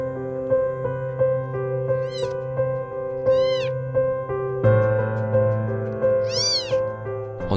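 Several young kittens meowing in short, high, rising-and-falling calls spaced a second or so apart, close by, over a steady background of soft music-like tones.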